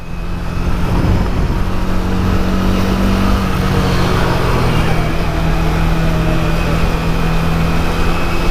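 A Pulsar 200 motorcycle ridden through Indian traffic produces a loud, continuous engine drone blended with heavy wind and road noise, steady from start to finish.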